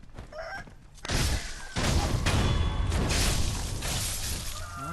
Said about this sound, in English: I believe there's a rooster here.